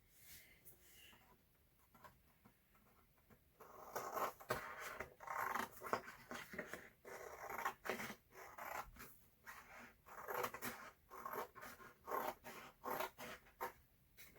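Scissors cutting folded paper for a children's craft activity, a run of crisp, rhythmic snips and rustles close by, quieter paper handling at first, then steady repeated cutting strokes.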